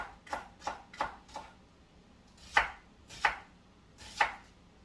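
A knife cuts onion slices for pickling on a board, seven distinct close chops, four quick ones, then three spaced more widely apart.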